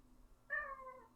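A single short cat meow, drawn-out and falling in pitch, heard alone and close over quiet background hum.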